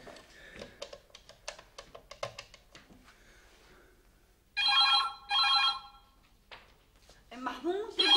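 A telephone in a home kitchen rings in two loud, bright electronic bursts after some faint tapping and clatter, with a voice speaking near the end.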